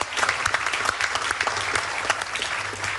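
Sustained audience applause fills a television talk-show studio, a dense, steady patter of many hands clapping at close range for about three seconds, with no voices on top.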